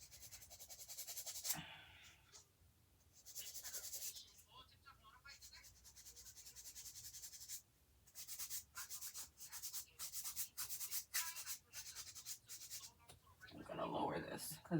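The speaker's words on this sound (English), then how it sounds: "I like having more control over my filing." An acrylic nail is filed by hand with a nail file in repeated scraping strokes, close and fairly quiet, with short pauses between bursts and a voice speaking at times.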